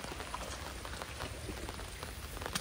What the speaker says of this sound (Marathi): पाऊस हळूहळू पडतोय.